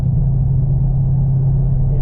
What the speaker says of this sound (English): Car drives just as well as it did when it was stock